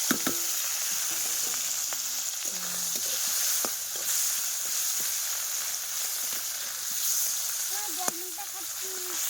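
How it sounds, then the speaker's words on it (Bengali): Fish frying in a hot wok, with loud continuous sizzling and bubbling and occasional clanks of a spatula stirring, while voices talk nearby over the cooking. "কড়া কিন্তু গরম হয়ে গেছে। এবার মাছ দিয়ে দেবো।"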